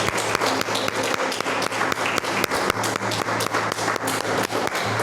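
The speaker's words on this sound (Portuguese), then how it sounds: "Pode aplaudir o Senhor" A church congregation applauds during a sermon, a dense, steady wash of many hands clapping close by with rhythmic accents, continuous for the whole stretch and no speech over it.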